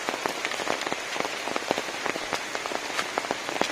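Monsoon rain falls on the Karavali coast, with dense, irregular raindrop taps and patters over a steady wash of water, close and alone.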